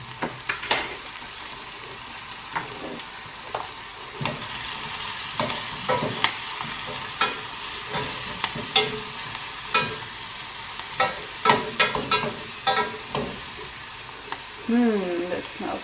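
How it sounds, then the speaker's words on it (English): Herbs and spices, fennel and paprika among them, sizzle and fry in a small pot as a squash curry cooks, with steady crackling and bursts of stirring close by. "I want to have these herbs and spices also a little bit fried"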